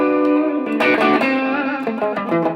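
A PRS electric guitar rings out through its rhythm pickup with a few clean, sustained chords and notes played close up. The tone is bright and harmonically rich, with no voices.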